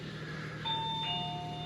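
A two-tone ding-dong door chime rings once at moderate distance, a higher note followed by a lower one that lingers, over faint room hum, with no talking.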